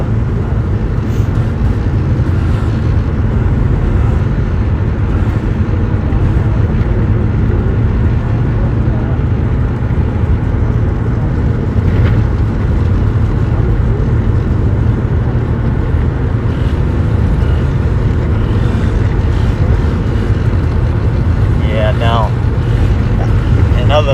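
A Polaris Trailblazer 250 two-stroke ATV driving over a rock pile, its engine a steady close rumbling drone throughout with faint knocks and rattles, and brief talk.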